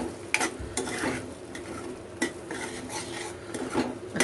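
Spoon stirring veg Manchurian gravy in a pan with red chili powder and tomato ketchup, giving repeated soft scraping and clinking strokes with a faint sizzle underneath, close and moderately quiet, no voices.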